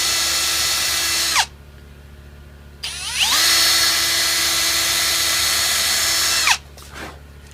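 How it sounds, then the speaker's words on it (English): A power drill whines at high speed in two long bursts, its pitch dropping as it bites into hardwood, with a short pause between them. "I'm drilling a hole that's just a little bit smaller than the shaft of the screw"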